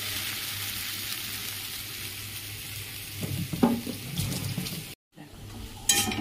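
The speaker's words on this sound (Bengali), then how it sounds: "দিয়ে এবার দেবো কাঁচা টমেটো।" Raw tomatoes drop into hot oil with cumin powder while ghugni is being made, giving a steady sizzle that flares louder as they hit the pan and are stirred, with a brief stir or scrape near the end.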